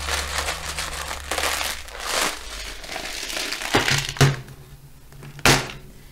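A sealed plastic bead storage box flipped upside down and shaken, giving bursts of rattling and crunching clatter with a few sharp knocks, fairly close and loud.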